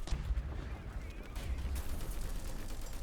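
Tank guns fire in the video game War Thunder, with deep low booms and rumbling blasts, a few heavy thumps early and continued rumble, fairly faint, with some voice chatter mixed in.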